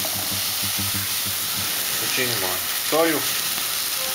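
Beef medallions fry in oil in a pan with a steady, close sizzle and hiss throughout, while someone speaks over the cooking.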